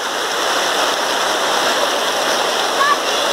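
Fast river water roars steadily through the Aigas Gorge on the Beauly River, swollen by dams on full release, a continuous broadband rush with no break, heard from a canoe on the water.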